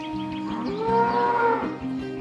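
Dairy cows mooing on a farm with an 85-head dairy herd in the Loiret, France: one long, loud lowing call rising and falling over about two seconds, with the herd murmuring faintly behind.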